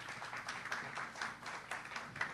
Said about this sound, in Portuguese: que a igreja receba com uma calorosa salva de palmas ao Senhor Jesus